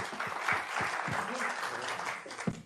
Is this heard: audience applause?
yes